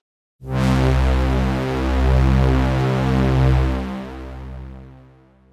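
A thick, rich supersaw synthesizer pad swells in and sustains with slow wavering chorus movement, then gradually fades.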